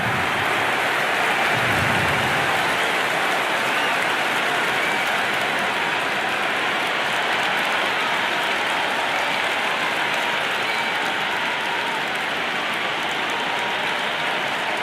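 A stadium crowd roars and cheers at a cricket match in the video game Cricket 22, a steady, dense wash of noise that holds loud and unbroken from start to finish with no break.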